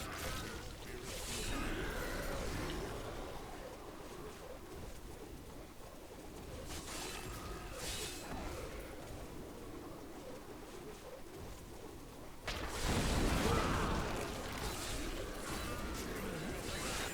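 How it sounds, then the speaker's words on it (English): Death bird monsters coo during a Nephilim rift in the video game Diablo 3, their soft repeated calls mixed into a busy, rumbling bed of combat and ambient effects, with a louder burst of action near the end. "There's some death birds here."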